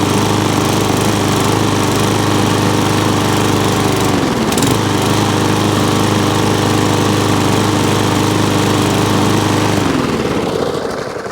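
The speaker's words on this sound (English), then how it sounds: "try running around the side with it starting and try and keep it priming" Briggs and Stratton E Series lawn mower engine running close by, a loud steady drone whose pitch dips briefly partway through, recovers, then sags again toward the end as the engine falters.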